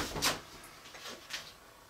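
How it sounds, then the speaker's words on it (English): A door opened from inside a room after hand washing, a short close clunk followed by faint softer knocks and rattles. "Open the door with it."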